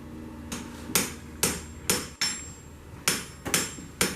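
Hammer blows on hot steel being forged into a corkscrew bolster on an anvil, about nine sharp ringing strikes in an uneven rhythm, close and clear with no talk.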